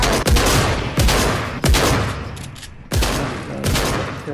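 Gunfire in a video game, several loud bursts of rapid shots and booming blasts spaced about a second apart, close and harsh with a roomy tail between volleys.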